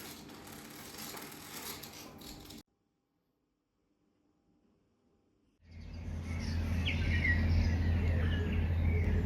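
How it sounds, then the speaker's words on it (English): Birds chirp and sing outdoors in the Western Cape, broken by a few seconds of near silence before the birdsong returns louder over a steady background hum. "I don't know if you can hear the birds, but just listen for a second"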